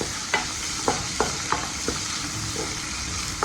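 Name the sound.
curry leaves sautéing with ivy gourd stir fry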